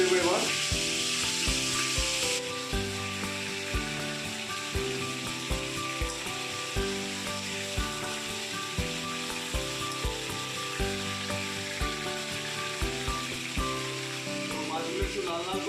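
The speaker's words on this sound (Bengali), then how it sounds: "মাছগুলো আমি একটা একটা করে ভেজে নিচ্ছি, উল্টিয়ে দেবো এবার।" Rohu fish pieces fry one by one in hot oil for a light pumpkin and rohu curry, giving a steady sizzling hiss throughout, mixed with prominent rhythmic background music.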